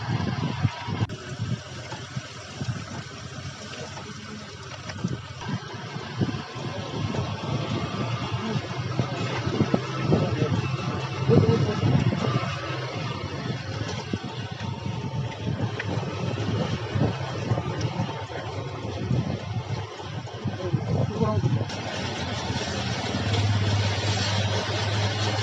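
Motorbike engine powering a homemade concrete mixer, a continuous rough mechanical drone with a churning rumble that runs steadily throughout, close and fairly loud with no talk.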